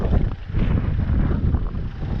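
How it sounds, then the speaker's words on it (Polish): Wind blowing by a clear river near a small unstable footbridge, a loud, steady, close buffeting roar that sounds like wind hitting the microphone, with no voices. "Ale wieje."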